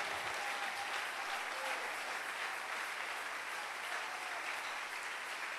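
A church congregation breaks into steady, sustained applause, many hands clapping evenly from start to finish at a moderate distance, with no voices standing out.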